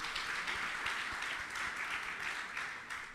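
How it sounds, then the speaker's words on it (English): Steady audience clapping fills a conference hall at a Commonwealth Hansard editors' association meeting, a dense, even patter of many hands sustained throughout. "I believe we should clap to that"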